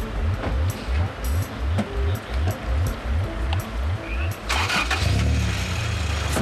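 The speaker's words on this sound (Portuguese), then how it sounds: "Ponha lá o carro a trabalhar, se faz favor." A car engine cranks with a rapid repeating starter whir before catching and settling into a loud idle rumble, close by, at a car park during an inspection tied to illegal street racing.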